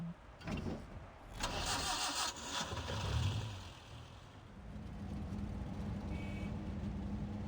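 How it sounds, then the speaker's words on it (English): In the video game Reverse: 1999, a car engine cranks and catches, revs briefly, then settles into a steady drone as the car drives off, loud and close with no talking. "The car slips through the crowd, turning down the quiet streets towards its destined end."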